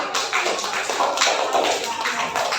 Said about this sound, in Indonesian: Tepuk tangan buat teman kita yang sudah lagi.